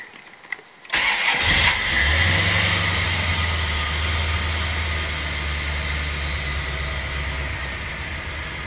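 Corvette engine cranking and catching after a moment of quiet, then settling into a steady, close, low idle that holds to the end.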